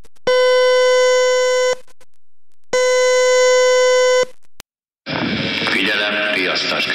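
Fire station alarm signal: two long, loud steady electronic tones separated by a pause, then a short click and a burst of broadband noise with a voice over it.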